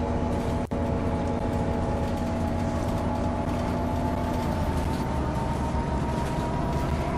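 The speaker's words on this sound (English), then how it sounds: "Now, whatever it does, that means there's a train nearby." A train passing close by in the OMSI 2 bus simulator game, on an American route, heard as a steady rumbling, droning roar with a sustained hum over a constant engine background, loud throughout with no talk.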